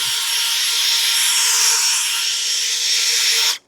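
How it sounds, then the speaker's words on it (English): A steady high-pitched rushing whine of a compact DeWalt 20V cordless leaf blower running continuously, loud and close, cutting off abruptly at the end. "That's a lot of freaking power in a little tiny blower."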